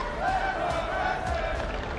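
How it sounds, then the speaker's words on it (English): A large arena crowd at an Overwatch 2 esports tournament chants for Twisted Minds, a dense roar of voices holding steady at moderate volume with rhythmic swells. "You can hear the chants in the crowd already for Twisted Minds."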